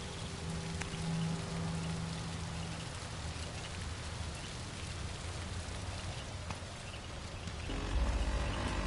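Steady rain falling across a coastal whaling-port setting in the video game Dishonored 2, a dense continuous hiss of drops on surfaces that swells slightly louder near the end, with no talking.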